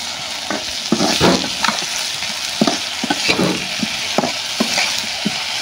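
Eggplant slices fry in a little oil for a Bangladeshi dish, sizzling steadily close by while a spatula scrapes and clatters against the pan as the pieces are flipped, giving repeated sharp knocks over the continuous hiss.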